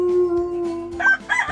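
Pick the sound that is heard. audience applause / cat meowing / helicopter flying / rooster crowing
rooster crowing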